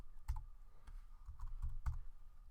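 Typing on a computer keyboard, a quick irregular series of soft close clicks and key thumps, quiet and without speech.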